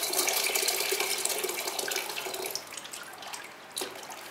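Water from a tap running and splashing at close range as warm water is added to clay at a pottery wheel while a kitchen pouring bowl with a lip handle is being made; the flow tapers and ends with a small splash.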